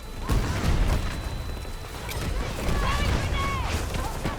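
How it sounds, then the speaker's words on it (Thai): An explosion in a shooting video game bursts out near the start, followed by scattered gunfire and in-game effects, with an excited player talking over the action. "วิ่งกลับไปละโอ้ระเบิด"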